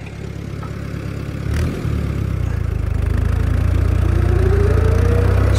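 An armoured car's engine idling steadily at close range, a deep continuous rumble that grows slightly louder and rougher as a rising whine enters toward the end, with no talking.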